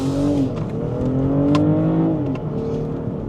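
A BMW X5 50e plug-in hybrid accelerates hard, its drivetrain giving a smooth rising whir and hum that stays loud and steady close by, with no talking over it.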